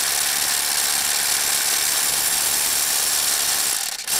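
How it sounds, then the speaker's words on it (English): A Ryobi One+ 18-volt SDS Plus brushless HP rotary hammer, model P223, drills into a rock in a bore hole, a steady loud continuous hammering rattle that cuts off abruptly near the end. "and I'm drilling to break it up"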